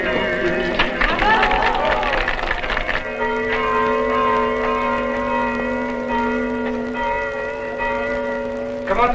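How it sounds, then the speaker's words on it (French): A church carillon rings, its slightly cracked bells sustaining long steady tones after a brief busier passage, with voices in the background at the start. "Comment trouvez-vous mon carillon, monsieur le curé? Un tout petit peu fêlé."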